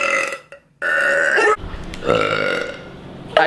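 A woman lets out a few loud, close burps in quick succession, with short silent gaps between them.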